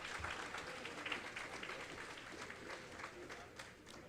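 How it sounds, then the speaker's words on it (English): A crowd claps steadily for the competitors at a grappling submission tournament, a dense patter of hands filling the room with some voices mixed in. "Hey, clap it up for our competitors today."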